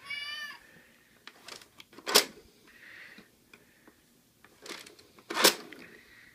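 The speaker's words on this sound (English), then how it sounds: "Can you find the animal that makes this sound? Where's the kitty cat?" A single short meow sounds at the start, followed by sharp clicks and rustling handling noises with quiet gaps between.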